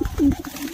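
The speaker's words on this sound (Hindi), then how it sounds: "तो देखिए अभी दानों पे उतर चुके हैं कबूतर" Pigeons landing on scattered grain at a house give a short, soft, low coo close by, with light rustling around it.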